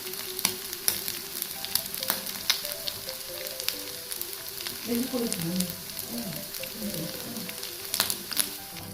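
Tikka fries in a pan on a low flame, a steady close sizzle with light crackles throughout and some stirring or scraping midway, no talk.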